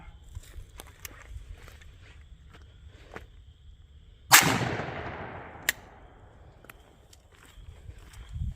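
A Stevens 301 Turkey .410 shotgun loaded with Winchester 6 shot fires once outdoors, one loud sharp blast with a long fading tail, and a fainter crack follows about a second later, over quiet background rustle and faint steps.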